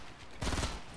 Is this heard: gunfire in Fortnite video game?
yes